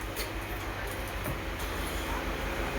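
An Agartala to Dharmanagar Durga Puja special train runs along, heard from inside as a steady rumbling roar with faint rhythmic clatter of wheels over rail joints.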